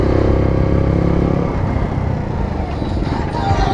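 A Bullit Hero 125 motorcycle's small engine running while riding in third gear through town, a steady close rumble and whir that continues evenly throughout.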